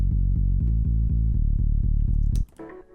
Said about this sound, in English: There's the bass, it sounds like this.